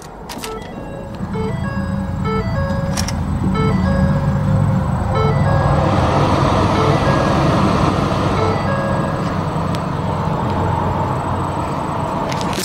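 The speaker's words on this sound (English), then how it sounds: "Now we'll go ahead and start the engine here." A 2010 Ford Mustang GT with the 4.6 V8 and a five-speed manual starts up beneath repeating cabin warning chimes, then settles into a loud, steady idle.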